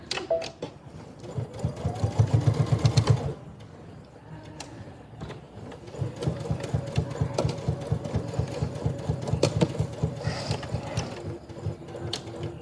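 A sewing machine stitches fabric in two bursts of rapid, rhythmic mechanical chatter separated by a short pause, close and clear with light clicks of the mechanism in between.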